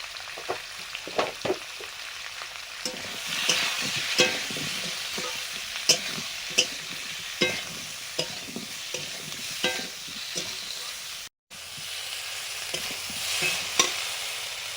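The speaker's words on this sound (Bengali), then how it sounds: "সবজিগুলো কষা হয়ে গেছে" Vegetables seasoned with salt and turmeric sizzle quietly in a pan while a utensil scrapes and stirs in regular, sharp strokes. A brief dropout breaks the sound near the end.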